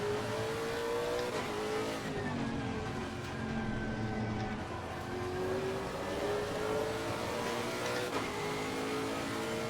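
Race car engines roar continuously in Assetto Corsa Competizione at Spa, loud and steady for the whole stretch, with rising and falling gear tones as cars rev and shift and no talking.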